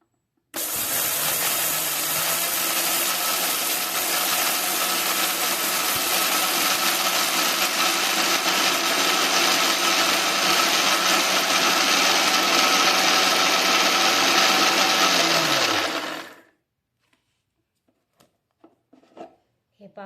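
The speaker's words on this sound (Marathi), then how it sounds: "म्हणजे पूर्ण सामग्री एकत्र करायची आणि मग मिक्सर करायचं" An electric kitchen mixer grinding a millet flour mixture runs loud and steady for about sixteen seconds, then stops abruptly, leaving a few faint clicks and quiet handling sounds.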